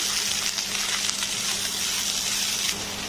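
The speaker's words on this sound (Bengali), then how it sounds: "এবার আমি একটু নেড়ে মিক্স করে দিচ্ছি" Yardlong beans stirred in a hot pan, a dense continuous sizzle with a faint low hum beneath and brief scraping surges from stirring.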